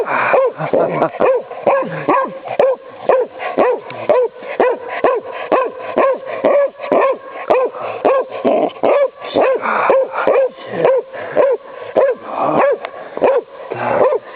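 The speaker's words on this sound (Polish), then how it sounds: "Dobry pies, grzeczny pies" A dog barks, yips and whimpers excitedly and without letup, close by, in a steady rapid rhythm.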